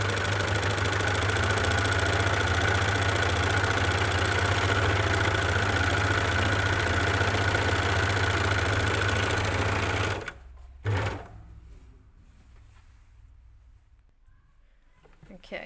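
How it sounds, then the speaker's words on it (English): An overlocker sewing machine runs fast and steady, stitching along the edges of a fabric bag with a dense, continuous whirring, then stops abruptly near the end and leaves a quiet room. "that is my edges nicely overlocked"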